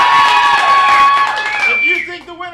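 Game-show audience cheering and clapping for a contestant, a loud burst of voices and whoops that fades out after a couple of seconds into quieter vocal sounds.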